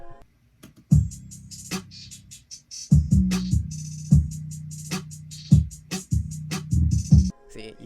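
808 drum beat of a trap track, with booming kick and bass hits, a ringing triangle and open hi-hats repeating in a steady loop across several bars, loud and with no voice.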